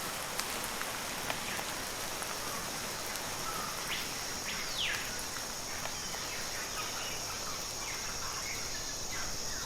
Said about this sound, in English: It's actually quieter in there because the rain's not falling all around me.